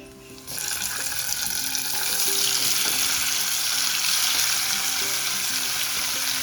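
Sardines (tarli) coated in salt and garlic paste fry in a pan with a steady, loud sizzle that swells after a brief quieter opening and crackles on continuously with faint clinks.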